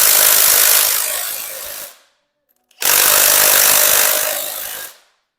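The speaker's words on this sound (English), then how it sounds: "this is a nut runner" A nut runner power tool tightening bolts during crankshaft installation on a 400 small-block Chevy engine, two loud sustained whirring bursts separated by a short pause, up close.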